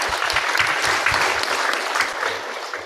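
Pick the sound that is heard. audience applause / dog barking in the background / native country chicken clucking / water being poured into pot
audience applause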